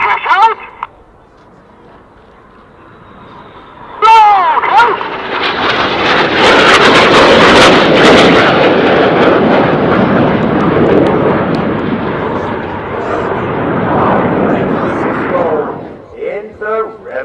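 Jet aircraft closing at over 700 miles an hour build into a loud, sustained roaring rush that swells over several seconds, holds, then cuts off, with shouting voices before and after the pass.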